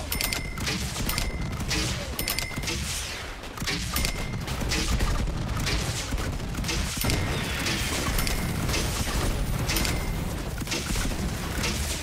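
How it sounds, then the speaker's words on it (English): Dense, continuous barrage of explosions at night in Saints Row, loud and chaotic, with repeated sharp bangs layered over a rumbling roar. "Explosions look so pretty at night."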